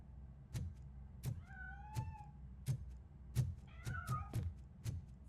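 A cat meows in the video game Robocop: Rogue City, several rising and falling calls near and clear, with a second run of overlapping meows late on, over a steady pulse of regular thudding game sounds.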